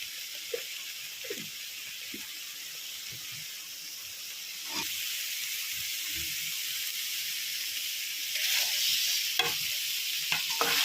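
Ground spice paste and turmeric frying in a pan for chingri malaikari, a steady soft sizzle with scattered stirring scrapes and clinks, growing a bit louder toward the end, no voices.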